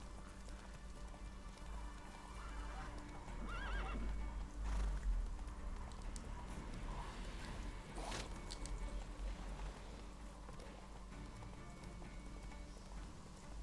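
A horse in the video game Witcher 3 gallops with a soft, rapid clip-clop of hooves and a whinny, fairly faint and steady over a low game ambience, with no talking.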